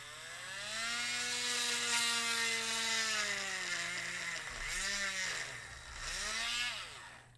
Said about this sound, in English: We just want to drill it out.